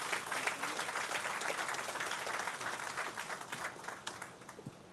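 An audience at a health center groundbreaking event gives a round of applause, a sustained spread of many hands clapping at moderate distance, fairly even for several seconds and tapering slightly at the end.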